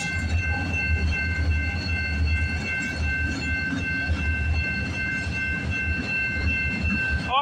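A freight train rolls into the yard at night at West Toronto, a steady loud rumble of wheels and cars with faint clickety-clack and a few high squeals, no talk.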